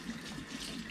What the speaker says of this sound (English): fill your sink up with water, and pour a generous amount of salt